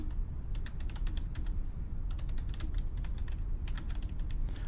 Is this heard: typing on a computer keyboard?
yes